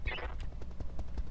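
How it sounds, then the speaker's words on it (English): Incendiary weapons fire on a vehicle in the RogueTech BattleTech video game as a rapid string of close gunfire bursts, roughly evenly spaced, over a busy background. "Make sure the incendiaries are all on. Yep, firing on the vehicle."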